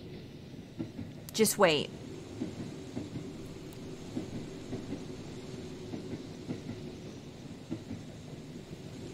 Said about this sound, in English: Does this train ever end?